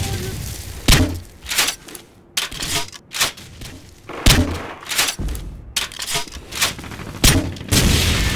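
Repeated gunshots from Call of Duty 4: Modern Warfare gameplay ring out in irregular bursts, sharp loud cracks spaced about a second apart with short volleys, and faint voices talk in between.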